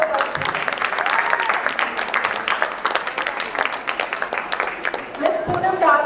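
An audience at a corporate summit held at a business institute claps loudly in a steady, dense wave of applause that carries on for several seconds as a speaker is welcomed.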